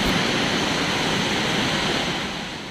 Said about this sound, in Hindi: सैलाब की इस हाहाकारी आवाज को सुनकर कोई इसके करीब भी ना जाए